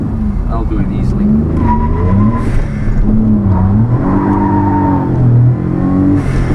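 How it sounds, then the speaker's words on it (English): A 1991 Daihatsu Atrai Turbo intercooler kei van doing a tire spin, its small engine revving and whining up through gears with squealing tires, heard loud from inside the cabin while someone talks over it. "let's go ahead and do a little tire spin"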